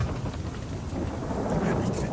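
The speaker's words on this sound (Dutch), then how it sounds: "Zware onweersbuien barsten los en er zijn niet genoeg tenten voor de manschap." Heavy thunderstorm with pouring rain, a dense continuous low rumble and wash of rain noise, loud and unbroken throughout.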